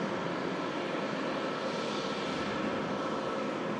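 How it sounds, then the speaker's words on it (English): A KLM airliner flies over Manchester Airport, its engines a steady, even roar that fills the whole stretch with broad noise and no break or fade. "That KLM now the bluest thing in the sky here at Manchester"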